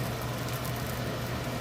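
Kitchen exhaust fan running over a stove where bacon is cooking, a steady broadband whoosh with a low hum, continuous and even throughout.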